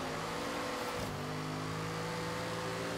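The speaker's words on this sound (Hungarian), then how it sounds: "De hallottam az autót, hogy rakj már hármasba." Car engine in the Forza Horizon 3 racing game revving steadily with sustained harmonic engine tones, a brief shift or dip near the middle, and no talk.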